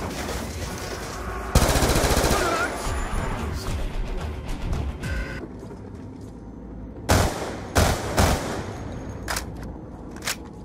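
Upgraded gun in Black Ops 2 Zombies firing a loud rapid burst, followed by a few separate sharp shots and game sound effects, close and punchy.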